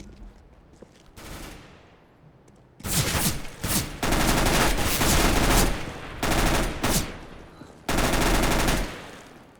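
Automatic weapon fire in the shooter game Counter-Strike: Global Offensive, loud sustained bursts and rapid volleys separated by short gaps, with brief quieter moments between strings of shots.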